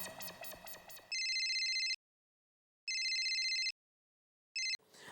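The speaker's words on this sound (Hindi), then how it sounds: "फोन पे टैचू नहीं कर सकते।" A telephone at a shop rings in a comedy serial scene, sounding three electronic bursts separated by silent gaps after a short stretch of music.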